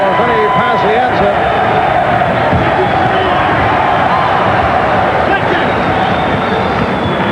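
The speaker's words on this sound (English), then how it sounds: "Now the crowd chanting for Vinny Pazienza." A boxing arena crowd chants for a fighter during a bout, a loud, continuous massed roar with rhythmic chanting, while a commentator talks over it throughout.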